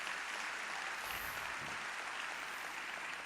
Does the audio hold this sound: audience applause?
yes